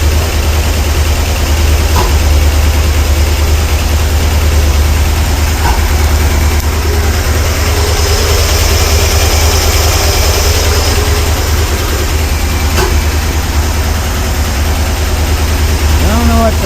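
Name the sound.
454 engine idling with popping, bad plug or lifter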